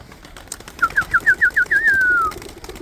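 A single bird call nearby: a series of quick rising notes followed by a drawn-out descending whistle, over quiet background.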